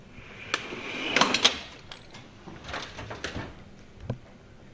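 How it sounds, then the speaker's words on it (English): A tool box drawer slides open with a rattling metal scrape, followed by a few scattered clicks and knocks from tools shifting, close and with no talking. "we'll open up the next drawer and show you guys what I got on the next drawer."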